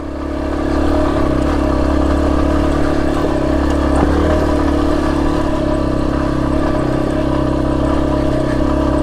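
A Yamaha XT250 dirt bike engine drones steadily and loudly close by, laboring up a steep loose hill with a rough, continuous mid-pitched growl and faint clatter.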